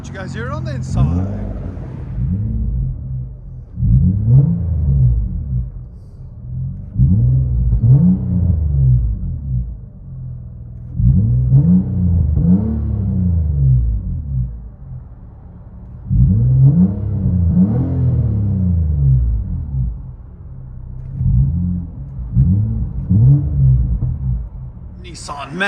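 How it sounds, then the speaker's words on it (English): 2009 Nissan Maxima with a 3.5L V6 and Vibrant mid and rear muffler delete, heard from inside the cabin: a deep droning exhaust swelling and easing in repeated rev cycles, loud and steady. "Nissan Maxima with a vibrant mid and rear muffler delete"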